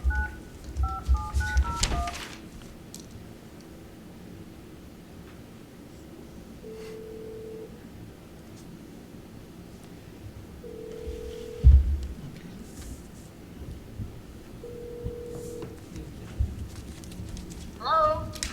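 At a village board meeting, a speakerphone dials with quick DTMF key tones. Three evenly spaced ringback tones follow, sounding over room hum and faint talk, then a click and background voices.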